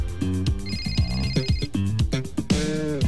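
A Motorola StarTAC mobile phone rings in a 1997 television commercial, its ringtone of bright repeated tones sounding among busy musical jingle notes, loud and close throughout.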